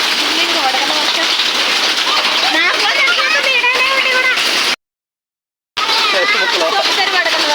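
Hail and heavy rain pelt surfaces outdoors during a storm in Hyderabad, a dense continuous clatter close by, briefly cut to silence partway, with a voice talking over it.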